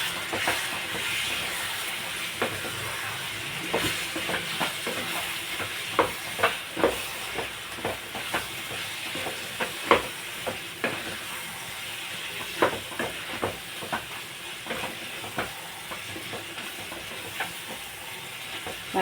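Chili powder fries in hot oil for a chicken curry, giving a gentle continuous sizzle broken by repeated scraping clicks as a spoon stirs the pan. There is no talking.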